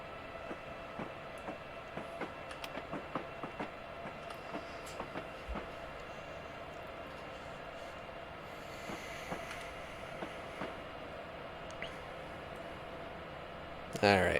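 A freight train running in a train simulator game, with rhythmic clickety-clack wheel beats over a steady rolling rumble at moderate level, a brief whoosh partway through and a short burst of voice at the end.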